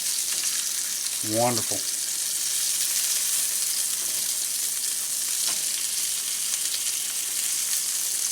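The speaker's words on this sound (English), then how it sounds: "you can see the fish is starting to cook up the sides" Rainbow trout fillets frying in a hot pan give off a steady, close, loud hiss of sizzling fat that runs unbroken throughout, with one brief spoken word near the start.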